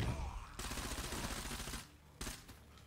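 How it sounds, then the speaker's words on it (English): Rapid gunfire bursts in the zombie-survival video game State of Decay 2, a dense fusillade of shots that stops briefly and then picks up again, loud and close throughout. "I'm shooting him in the head, literally."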